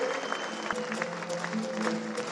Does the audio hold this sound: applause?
yes